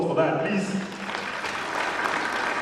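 Crowd applause at a prize draw event in Botswana, a dense steady wash of clapping lasting the whole moment with voices mixed in underneath.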